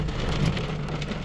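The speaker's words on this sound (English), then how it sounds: "There's definitely hail in this, and I heard a couple ping off my vehicle." Hail and heavy rain pelt a vehicle during a storm, a dense, loud, continuous drumming with scattered sharper hits, no voices.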